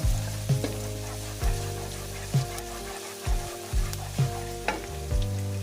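Pork giniling and mushrooms frying in a pan, a continuous loud sizzle broken by regular scraping stir strokes about every second, with no talking.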